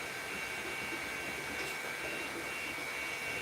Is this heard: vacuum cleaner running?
yes